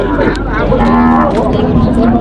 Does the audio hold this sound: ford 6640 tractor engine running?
no